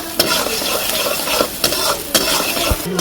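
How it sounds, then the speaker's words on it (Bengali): Chopped onion fries in oil for potato dal, a close steady sizzle broken by several sharp scrapes and clinks of a spoon stirring against the pan. "তেলের সাথে দিয়ে দিলাম পেঁয়াজ কুচি এখানে আমি পেঁয়াজটা লাল করতে দিয়ে দিলাম"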